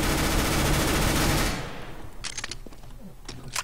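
Rapid automatic gunfire in the video game CS:GO comes as a dense, loud burst for about a second and a half. Scattered single shots and clicks follow at a lower level.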